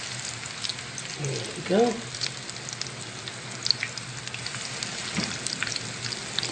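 Clam fritters, New England clam cakes in batches of about four, sizzle and crackle as they drop into hot oil in a 10-inch skillet; a steady frying hiss runs throughout under brief talk.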